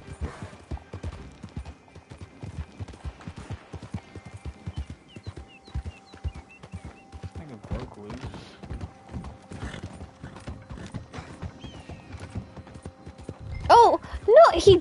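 Galloping horse hooves from Red Dead Redemption 2, a steady rapid clip-clop rhythm running through most of the stretch, with a whinny and some mechanical creaks near the end and voices talking over it.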